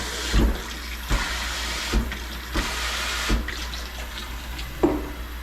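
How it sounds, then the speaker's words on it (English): A bathroom sink sprayer runs water in a renovated apartment bathroom, a steady hiss broken by several short knocks and clunks, with no talk over it. "The most important part is when I turn the sprayer on, this thing shuts off."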